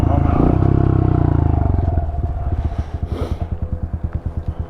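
A 2023 Honda CRF110 dirt bike engine running close by, starting with a loud revving roar that settles into a lumpy, rhythmic idle with a steady chugging pulse.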